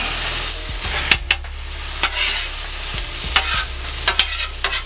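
Bite-sized pieces sizzle with garlic butter and teriyaki sauce on a Steelmade hibachi-style griddle. A steady, close frying hiss runs throughout, punctuated by several sharp spatula clacks against the metal.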